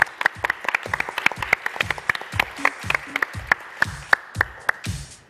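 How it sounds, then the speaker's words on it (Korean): An audience on a Korean studio variety show claps: sharp, distinct handclaps at a brisk, fairly even rhythm, with no talking, thinning out near the end. "큰 박수 부탁드립니다."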